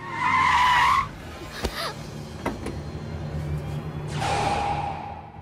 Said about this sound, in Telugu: కారు వస్తుంది, ఫాలో అవ్వండి.